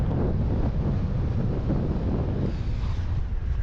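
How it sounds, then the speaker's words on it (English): Strong wind buffets the microphone at a clifftop castle on the Scottish coast, a loud, continuous low rumble with gusty fluctuations and no voices. "The wind's blowing up here so strong. I do apologise for that in today's audio."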